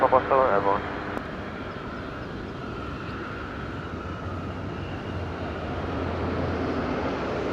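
Airliner departing Madeira Island Airport, a steady broad engine roar heard from a distance that swells gradually, following a brief voice at the start.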